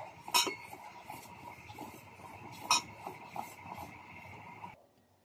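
Tablea chocolate being stirred in a pot, with faint scraping and a few sharp clinks of a utensil against the pot, the stirring stopping near the end.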